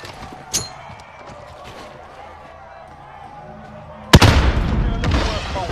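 Gunfire in the battle royale game Call of Duty: Warzone: one sharp shot early on, then a loud, dense burst of shooting near the end, with game ambience in between.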